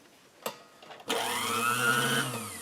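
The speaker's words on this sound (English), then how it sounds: "Motor's running good." Electric motor of a Klaxon-type H9 motor horn: a couple of faint clicks, then the motor whirs up abruptly and runs in a steady, close, bright whine with a slight rising pitch, no voices over it.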